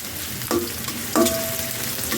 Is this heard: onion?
yes